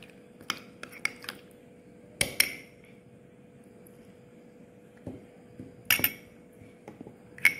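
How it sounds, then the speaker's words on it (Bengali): A spoon stirs aloe vera gel into a mixture in a bowl, giving sporadic sharp clinks and taps against the bowl with quiet pauses between them, close and fairly soft. "এবার সবগুলো খুব ভালো করে মিশিয়ে নেব"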